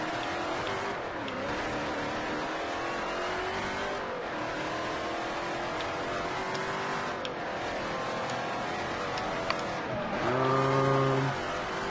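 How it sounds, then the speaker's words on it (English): Car engines in a Forza Horizon video game street race drone and rev continuously, shifting pitch through gear changes, with tire noise and a strong rising rev near the end. "we're in a street race right now, which are sort of the unsanctioned events in Forza Horizon"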